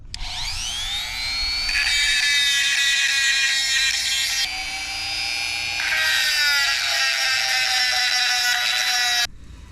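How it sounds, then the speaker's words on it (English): Dremel rotary tool grinding into a steel steering universal joint on a Jeep Wrangler TJ, a loud, steady high-pitched whine that rises and dips in pitch as the cutting load changes, running nearly ten seconds before stopping abruptly. "I'm gonna Dremel some of that out."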